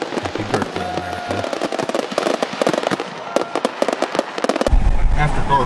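Fourth of July fireworks crackle and pop in rapid, dense bursts, with a deeper boom near the end, while people talk underneath.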